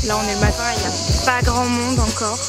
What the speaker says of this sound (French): Difficilement s'entendre parler avec toutes les cigales qu'il y a.